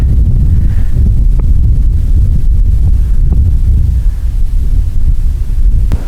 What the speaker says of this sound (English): the wind is just ripping right through my little hoodie here